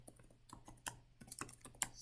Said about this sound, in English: Since I know the name, I'm just typing it.